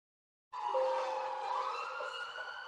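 A police car siren plays through a speaker during a training demonstration, starting abruptly and holding a steady wailing electronic tone, fairly loud and alone.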